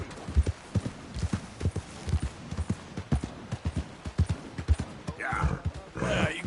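A horse trots along in Red Dead Redemption 2 with a steady clip-clop of hooves and a brief snort, while a voice talks over it.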